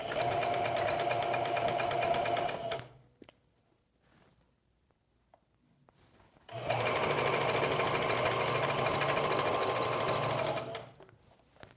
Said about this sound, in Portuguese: vou costurar normal, só que agora com zigue-zague e tensionando o meu tecido